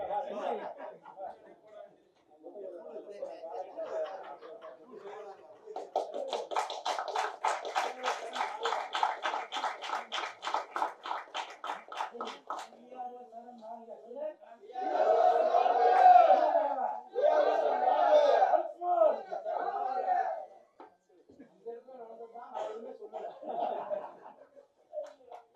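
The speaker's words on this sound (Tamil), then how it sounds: "அதனால் தயவு செஞ்சு நீங்களே ஒரு தடவை கைத்தட்டிடுங்க." A crowd at a press meet for the film Lost Night breaks into a long burst of clapping, then loud cheering and laughter, with talk around it.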